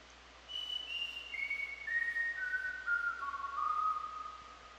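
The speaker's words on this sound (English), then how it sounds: "I did whistles actually, like I whistled." A pitched-up human whistle used as a sample in a song steps down in a clear melodic line of sustained notes, smooth and alone over a quiet background.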